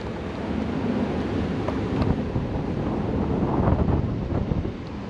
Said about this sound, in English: It was that intense, the wind.